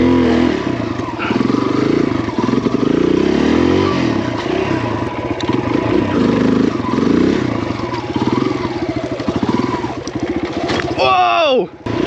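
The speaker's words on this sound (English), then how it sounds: "I'm gonna try that one more time." A Kawasaki KLX140RF dirt bike revs hard and close during a wheelie attempt on a hill, the engine rising and falling with clattering, then dropping away near the end under a sharp whining sweep, with voices over it.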